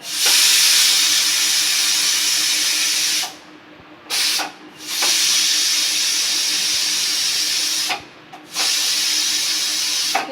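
Loud, continuous hiss of steam escaping under pressure from a pressure cooker, cutting off briefly twice before resuming at full force.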